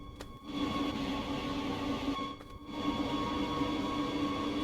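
Electric train in Germany starting off under power after the parking brake is released, a steady mechanical hum and rumble with tonal whine, briefly dipping twice before resuming, fairly close and without talk.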